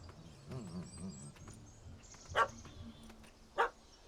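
A dog barks twice in The Witcher 3 video game, with two sharp, loud yaps about a second apart following softer whimpering and low voices at the start.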